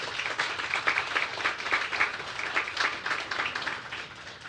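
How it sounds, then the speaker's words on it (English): Audience applauding at a design awards ceremony, a dense sustained patter of many hands clapping throughout, moderately loud in a large room, tapering slightly toward the end. "Let's give them a round of applause."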